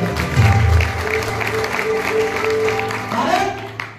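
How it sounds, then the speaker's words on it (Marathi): Listeners clap along at a bhajan performance in a village deity temple at Kolambe Songiri, a moderate, continuous patter of hands mixed with a voice and sustained musical tones. "जे ते थांबले भजन ऐकतात त्यांच्यासाठी असं टाळ्या वाजवल्या"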